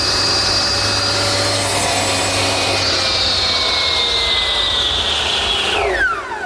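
A hand saw cuts a wooden slat at a 45-degree angle in a miter box for a patio garden table, making a continuous loud rasping with a high ringing tone, stopping abruptly near the end.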